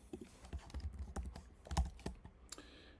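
Computer keyboard keys clack in a quick irregular run of close, crisp taps during a Control-C copy, with no voice over them.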